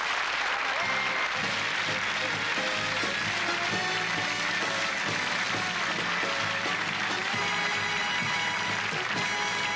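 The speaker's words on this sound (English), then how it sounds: "Big round of applause for the lovely lady." Applause for a woman assistant on a televised magic show rises beneath loud band music with a rhythmic beat, the clapping blended into the continuous music throughout.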